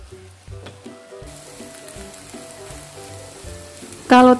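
An egg sizzles and fries in a pan while black pepper kway teow is cooked, a steady close crackle with a louder burst of sizzling near the end and no talking.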